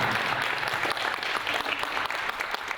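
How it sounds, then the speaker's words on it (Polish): Loud applause for participants at a badminton competition, a dense, sustained crowd clapping that fills the whole stretch at a steady, even level. "proszę gromkie brawa dla wszystkich uczestników."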